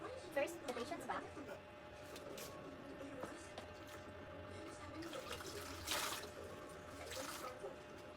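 A patient's back being washed with water during a bed bath, heard as faint, intermittent splashing and wringing with a few brief louder swishes. Quiet background voices come and go.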